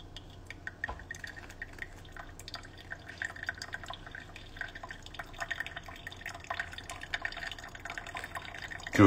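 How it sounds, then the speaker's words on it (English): Pour-over coffee drips in a quiet indoor space, a faint, irregular patter of small drops and trickles that continues steadily and swells slightly toward the end. "pour over because I believe that it does make it a little smoother"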